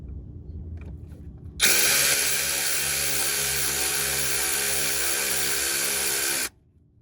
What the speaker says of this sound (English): Careful with your socket wrench. The sucker can pack a mighty punch.